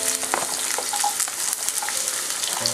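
Onion hitting hot spiced oil in a pan for dal curry, giving a steady close sizzle and crackle with occasional stirring scrapes throughout.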